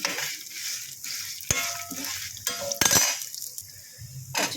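Dried coconut pieces fry with dry red chillies in a pan, giving a soft, patchy sizzle broken by stirring scrapes and a few sharp metallic clinks of a spoon against the pan, close and without talk.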